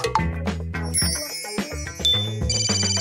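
A phone rings with an incoming call, giving out a bright electronic ringtone of repeated chiming tones over a busy kitchen background.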